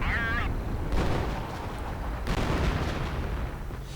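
Artillery fire in a World War II strategy video game, with Sherman tanks and Panzer divisions: dense, continuous rumbling booms and bursts that swell and stay loud throughout, with a brief whistling shell sound at the start.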